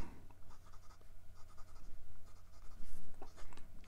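Close, scratchy strokes of a Waterman Carene fountain pen's 18 karat gold nib moving across Clairefontaine 90 GSM paper, in short irregular bursts with brief pauses between words.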